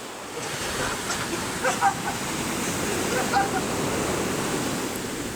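Ocean surf rolls and breaks continuously at a cold beach where people are skimboarding, a steady broadband wash with a couple of louder crashes, close and fairly loud, with faint voices in the background.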